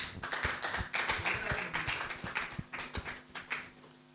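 An audience taps in rough rhythm at an exhibitor session, crisp repeated taps and light claps close by, fairly quiet, with little talk.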